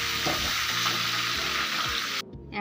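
Chicken pieces for biryani fry lightly in oil with a loud, dense, steady sizzle and some stirring scrapes, close up, before the sizzle cuts off abruptly near the end.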